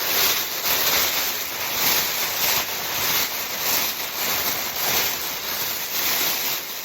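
Large Amazon shrink wrap bag being opened and handled, a steady loud crinkling and rustling of plastic film close by, running throughout with slight swells.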